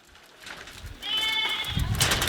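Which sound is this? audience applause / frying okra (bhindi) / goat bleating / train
goat bleating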